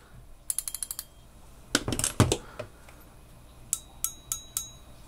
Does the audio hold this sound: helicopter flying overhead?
no